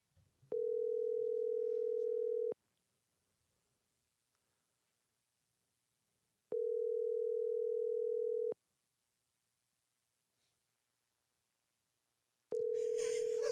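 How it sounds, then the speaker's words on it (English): A telephone ring tone sounds in long steady bursts, about two seconds each, separated by silent gaps, repeating three times. "We're going to get to hear a lot of ringing."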